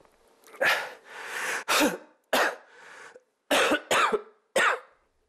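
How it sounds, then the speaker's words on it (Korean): A man with chronic sinusitis coughs repeatedly in harsh bursts, with throat clearing and heavy breaths between fits, close and loud. "콧물과 기침이 늘 방해가 된다"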